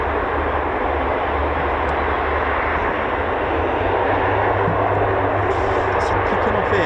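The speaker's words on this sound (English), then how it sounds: "Pilot has requested a short takeoff." A US Air Force military aircraft on a short takeoff roars with a loud, steady broadband engine rumble that swells slightly toward the end, heard from nearby with no talk.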